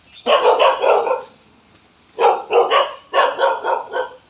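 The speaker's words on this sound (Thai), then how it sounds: "เกิดมาเป็นหมาเนี่ยก็เห่า" A dog barks loudly and close by. One burst of rapid barks is followed by a pause, then two more quick bark runs, with no talking.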